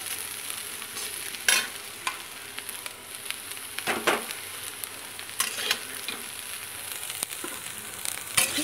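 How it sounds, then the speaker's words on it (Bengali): Potato pieces frying in oil in a pan, a steady close sizzle punctuated by several sharp stirring scrapes and taps of a spatula, with no talking. "আলুটাকে বেশ লাল লাল করে যেমনটা আমরা খাবো সেইভাবে আলুটাকে ভেজে নিতে হবে"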